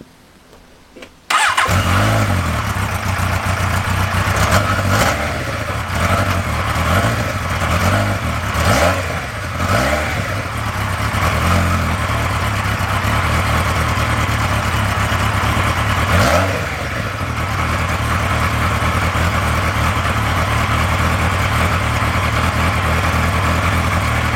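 A car engine cranks and catches, then revs in a few rising and falling swells before settling into a steady, loud idle, heard up close with no talking.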